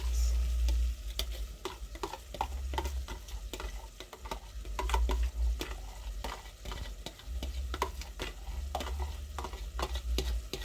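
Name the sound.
stirring tomato scrambled eggs in a frying pan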